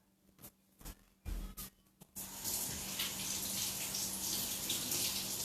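Vegetables are rinsed under a running kitchen tap: a few short clatters and splashes first, then a steady, fairly loud gush of water that continues to the end.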